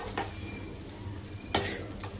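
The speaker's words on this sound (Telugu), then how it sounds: "దీంట్లో కొద్దిగా పాలకూర, ఉల్లిపాయలు, కొద్దిగా టమాటా వేసి ఫ్రై చేస్తాను." Chicken fry for dum biryani cooks in a pan with spinach, onion and tomato; a soft steady sizzle runs underneath while a utensil scrapes and knocks against the pan twice, clearly and close.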